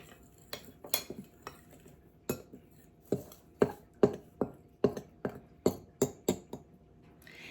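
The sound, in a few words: mixing dry biscuit ingredients in a bowl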